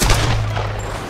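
Rapid burst of close, loud gunfire from a Tomb Raider firefight, a dense fusillade of overlapping shots filling the whole moment.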